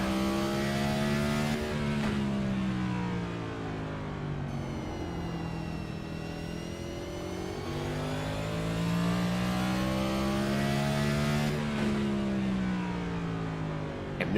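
The number 9 stock car's engine roars onboard during the Race for the Cure 250 in the OCTANE Series, a loud, steady drone whose pitch climbs and falls through gear changes and corners, with no talking.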